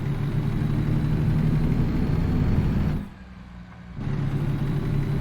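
Simulated Western Star 49X truck engine in American Truck Simulator droning loud and steady with a low harmonic rumble, briefly dropping away for about a second as if during a gear shift, then resuming its pull.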